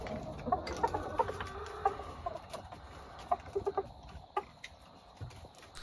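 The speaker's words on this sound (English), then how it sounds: "these chickens are getting ready to come out the coop" Chickens from several merged flocks cluck in short, scattered bursts as they prepare to leave an enclosed coop run, a moderately close, busy farmyard chatter with no talk over it.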